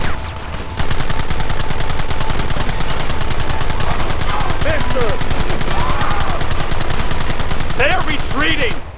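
Rapid gunfire fills a Red Dead Redemption shootout, loud and continuous, with dense overlapping shots running nearly the whole stretch and brief shouted voices mixed in.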